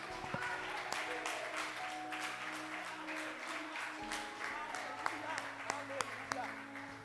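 Steady applause from a church congregation, many hands clapping continuously throughout with a few sharper claps standing out.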